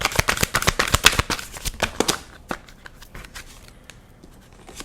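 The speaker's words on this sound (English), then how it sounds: "Keep shuffling." Tarot cards being shuffled by hand, a rapid run of crisp riffling snaps for about two seconds that thins into a few scattered soft card flicks and quiet handling, close and with no voices.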